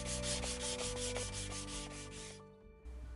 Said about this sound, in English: Using a sanding sponge, I sand the entire box and especially focus on the corners